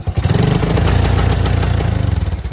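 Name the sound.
Kawasaki KLT250 engine running after new wiring harness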